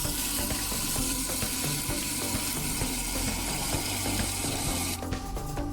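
Water poured steadily into a cooking pot over a frying seafood-soup base (chupe de mariscos) with ají mirasol, a continuous close rushing splash for several seconds with no talking.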